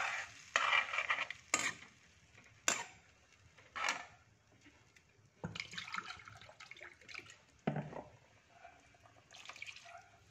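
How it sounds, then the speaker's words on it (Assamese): Ginger garlic paste being stirred into a frying egg curry, with repeated scraping bursts of a spoon in the pan over a soft sizzle and occasional watery drips, close by. "এতিয়া মই আদা নহৰু পেষ্টটো মিলাই দিলোঁ"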